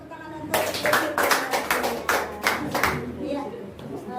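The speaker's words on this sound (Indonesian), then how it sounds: "Kasih tepuk tangan untuk" Applause breaks out at a kindergarten staff gathering, a burst of hand clapping from a small group that starts suddenly, stays lively for a couple of seconds, then thins out, with some voices chattering underneath.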